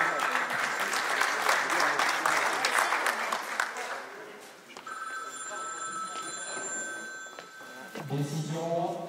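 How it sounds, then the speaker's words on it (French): Audience applauding boxers at a regional amateur boxing championship final, a steady crowd clapping for several seconds, then a bell ringing partway through as clapping continues and fades into a speaker's voice. "On peut les applaudir."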